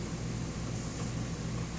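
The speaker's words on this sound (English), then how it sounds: "That noise you hear is the air conditioner." An RV air conditioner runs in humid weather, giving a steady, droning hum with a low mechanical buzz and airy hiss that stays unchanged, with no voices.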